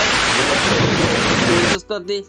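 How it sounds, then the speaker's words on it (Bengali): Heavy monsoon rain pours down with a rumbling thunderstorm, a loud, dense wash of noise that stops abruptly and gives way to a voice speaking. "আষাঢ় মাসে বৃষ্টি হয়"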